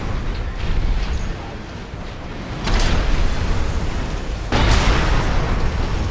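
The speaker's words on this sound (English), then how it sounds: "Didn't mean to fire both our cannons there, but it did the job" Two heavy cannon blasts from an armored mech in Armored Core 6, booming loudly a couple of seconds apart over a constant rumbling battle backdrop.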